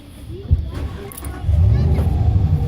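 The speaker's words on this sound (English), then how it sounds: "Cars coming this way." Cars drive past at a fireworks outing, a low engine rumble building and swelling nearer through the second half, with background voices and crowd babble underneath.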